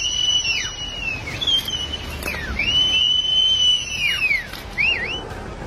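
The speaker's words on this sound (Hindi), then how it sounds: "ये लोग सीटी बजाकर बाकी लोगों को सावधान करने की कोशिश कर रहे" Shrill whistle blasts from people warning others of a landslide with large boulders tumbling down a slope, several sustained and bending tones repeated across a noisy outdoor background.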